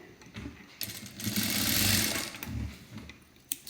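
A sewing machine runs a short burst of stitching on a high neck blouse, a close, steady mechanical whir rising and easing over a few seconds, with a sharp click near the end.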